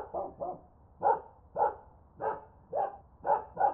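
A dog barks in a steady series of about eight separate woofs, evenly spaced, clear and close with nothing else under them, placed toward the right side.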